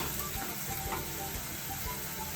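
Ginger garlic paste sizzles in a hot pan for tomato bath, a steady dense crackle and hiss throughout, fairly quiet and continuous with no talking.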